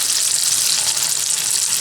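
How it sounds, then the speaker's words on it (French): Date and pistachio briouates deep-fry in very hot oil, giving a dense, steady, close sizzle that crackles continuously with no talking. "je vais procéder à la friture de mes brévottes dans une huile très chaude"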